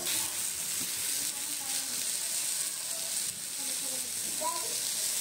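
Fish sizzles in a multi maker with a dense, continuous frying hiss that holds steady throughout, with faint bubbling pops beneath and no talking.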